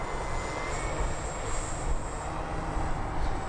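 A Hangar 9 OV-10 Bronco 30cc giant-scale twin RC warbird flies overhead, its engines giving a steady, broadband droning roar that holds fairly even at a moderate distance, with no voices.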